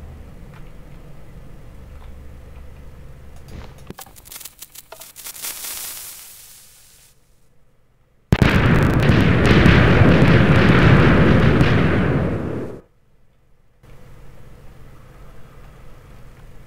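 A TNT bomb detonating in Minecraft: a loud roaring explosive blast of about four seconds that cuts off sharply, after a fainter earlier burst and quiet fuse-like ticking.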